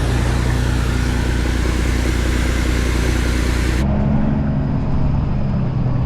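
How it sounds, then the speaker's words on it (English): A farm truck loaded with dry corn drives on with a steady, loud engine drone and road rumble; partway through the sound drops to a duller, muffled tone as the engine keeps running. "I'm gonna head uptown with this load."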